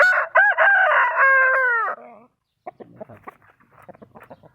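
A Burmese fighting rooster crows once, loud and close, a long strained call, followed by quieter scattered clucks and faint background sounds.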